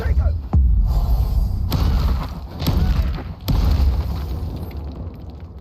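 Spell blasts in the Hogwarts Legacy video game, several booming thuds and bursts from combat, including a Depulso cast, loud and close over dense game noise.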